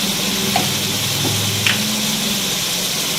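Mutton frying in a pan with turmeric and red chilli for aloo gosht, a steady loud sizzle with a few soft stirring scrapes and clinks, no one talking.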